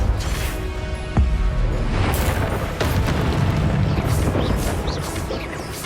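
Confringo blasting spells burst in the Hogwarts Legacy video game, a loud rumbling explosion with a sharp crack near the start, followed by sustained booming roar and debris crackle.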